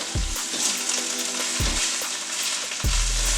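Oil sizzles steadily in a pan while tofu scramble cooks, a close, constant crackling hiss with three dull knocks or stirring thumps spaced through the short stretch.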